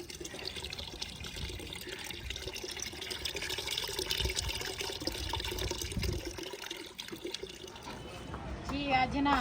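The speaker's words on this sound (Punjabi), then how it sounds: "ਇੱਧਰ ਜੀ ਆਇਆ ਸੀ ਵਾਟਰ ਸਪਲਾਈ ਦਾ ਪਾਣੀ ਤੇ ਹੁਣ ਮੈਂ ਆ ਗਿਆ ਪਾਣੀ ਲੈਣ" Water from a village water-supply tap pours into containers, a fairly quiet splashing and trickling flow that rises near the end, with people talking over it.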